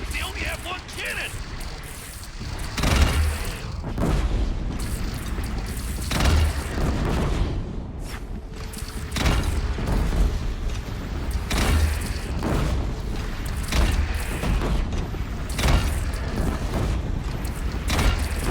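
Repeated heavy booms of cannon fire ring out across a busy battle soundscape in the video game Horizon Zero Dawn, with people talking and shouting throughout.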